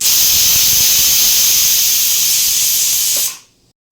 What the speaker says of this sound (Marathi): नंतर त्याच्यासाठी शिट्टी लावायची कुकरची आणि कुकर लावून घ्यायचा